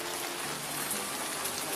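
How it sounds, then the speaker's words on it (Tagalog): Heavy rain pours down in a steady, dense hiss that fills the whole moment, with no voices over it. "ang lakas ng ulan"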